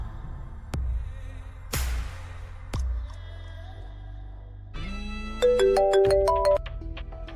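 A phone rings during a call in a Tamil TV serial drama: a few dull thuds, then a bright, melodic electronic ringtone of rapid rising tones plays for about a second.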